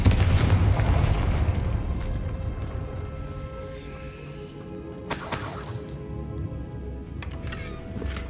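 A Confringo fire spell explodes in Hogwarts Legacy with a loud, booming blast that rumbles away, followed by a second sharper crack and burst midway.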